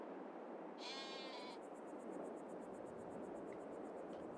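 A sheep bleats once, short and clear, on a farm in Farming Simulator 22, over a constant broadband ambient wash.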